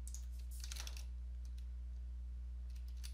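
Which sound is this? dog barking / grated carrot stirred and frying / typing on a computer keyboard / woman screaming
typing on a computer keyboard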